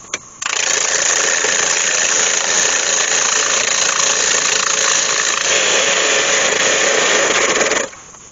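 Wood lathe spinning a gnarly piece of hawthorn held in a four-jaw chuck with a revolving centre: the motor starts, then holds a steady, loud whirring hum for about seven seconds before spinning down, with no talking.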